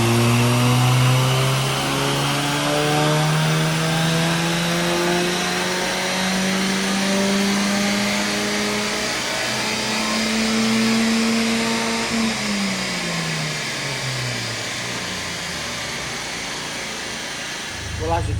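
A VW Golf engine on a rolling road dyno runs through a long rising pull, its loud rough drone climbing steadily in pitch for about twelve seconds before dropping and fading.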